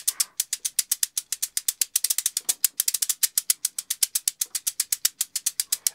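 Abacus beads rattled in a fast, even rhythmic beat, dense crisp clicks at close range, slightly bunched in the middle, with no voices.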